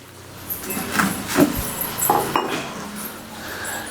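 A spoon clinks against a glass as a homemade jujube-leaf drink is stirred, several light, bright taps spaced irregularly over a few seconds, close and fairly quiet in an otherwise calm room.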